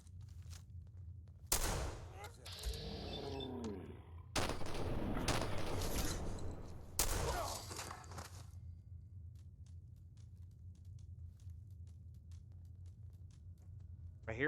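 Bursts of gunfire in the video game Fallout 4, several loud volleys of shots in separate clusters with brief pauses between, followed by quieter background ambience; a voice talks briefly during the shooting.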